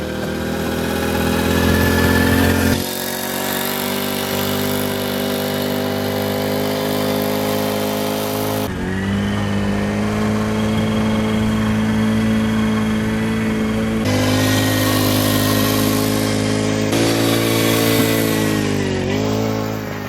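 A small gas engine on a motorized ride-on cooler runs continuously while being ridden, droning steadily with pitch shifts as it revs and eases off, loud and close with no voices.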